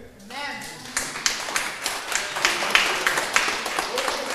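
An audience at a Christian nativity gathering claps in a quick, uneven patter that swells, and talk and noise run underneath the clapping.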